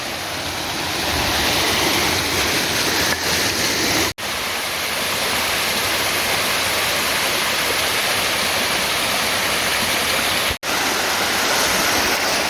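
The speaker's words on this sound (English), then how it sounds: "Some pretty cascades." A mountain stream tumbles down pretty cascades toward a waterfall in Mt Mitchell State Park. The rushing water is loud, close and unbroken, apart from two very brief dropouts.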